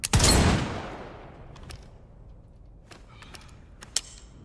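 A modded Resident Evil video game fires a weapon: one loud blast that decays over about a second, then a few faint, scattered clicks and a sharper pop near the end.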